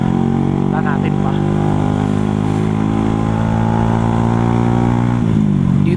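Motorcycle engine running steadily up front during a cool night ride, a constant low drone with a slight rise in revs near the end, with people talking over it.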